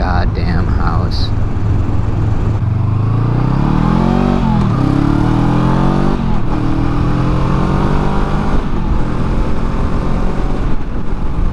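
Motorcycle out on a night ride, its engine droning steadily and close with rising and falling pitch as it shifts through gears, loud and continuous throughout.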